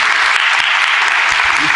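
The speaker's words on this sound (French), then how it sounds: "Félicitations encore à vous et des applaudissements." Brief steady applause from an audience at a school event, a dense wash of clapping throughout with possible voices underneath.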